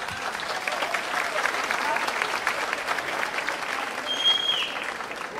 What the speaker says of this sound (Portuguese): E vamos aplaudir, Roberto.